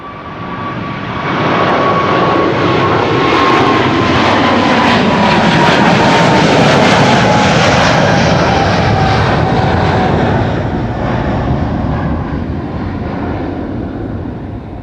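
A KLM jet airliner, flight 591 bound for Johannesburg, roars steadily past at Schiphol, a loud sustained engine rumble with a thin whine that slides downward as it passes.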